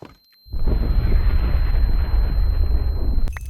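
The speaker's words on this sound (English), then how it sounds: "we need to detonate a nuclear explosion" A nuclear explosion set off in Minecraft with the Alex's Caves mod booms as a loud, sustained rumbling roar after a short quiet lead-in, holding steady for about three seconds before a brief click.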